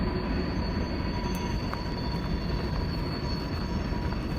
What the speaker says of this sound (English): Just constant trains.